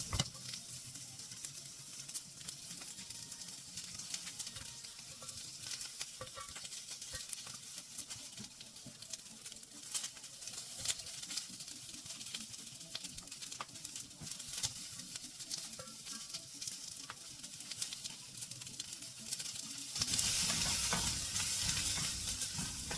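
Meatballs fry in a pan with a steady, close crackling sizzle that holds throughout and swells louder near the end, with no voices.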